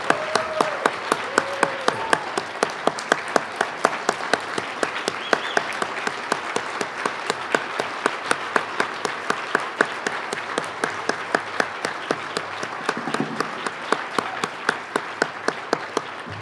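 Sustained applause from a banquet audience at a Utah state Republican party convention, dense clapping that runs steadily for the whole stretch with a few individual loud claps standing out, no talk over it.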